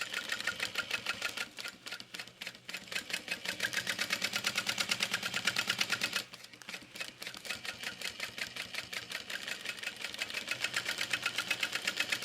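A sewing machine basts around stacked fabric layers, running in fast, steady needle bursts with a short pause midway before stitching on again, close and alone.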